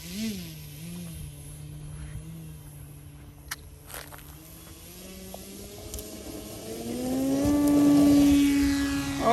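An 83-inch RQ-7 Shadow RC aircraft from Legend Hobby takes off on its maiden flight. A droning propeller buzz climbs steadily in pitch and grows louder toward the end, with a few faint footsteps and knocks early on.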